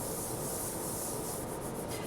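Crayon or coloured pencil pressed hard and rubbed back and forth on paper while colouring a bear drawing, giving a steady, close, dry scratchy rasp with no pauses.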